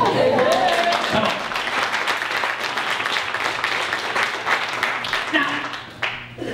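A church congregation claps for the pastor's son, dense sustained applause filling the room for several seconds before fading, with voices talking beneath it.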